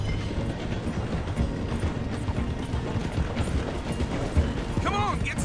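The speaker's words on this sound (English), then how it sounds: "The train is slowing down to go through the station." A train rolls slowly through a station in Red Dead Redemption 2, with steady mechanical clatter and rhythmic wheel knocks, and a brief squeal of brakes near the end.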